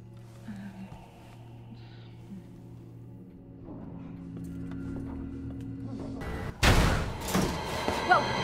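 Sudden loud gunshots in Resident Evil 2 Remake burst in late after a long, quiet, tense stretch, with a voice shouting over them.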